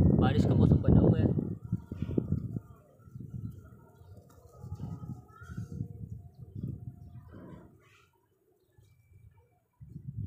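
Pigeons coo softly in short bursts while feeding on grain outdoors in strong wind before rain, with a person talking over them for much of the stretch.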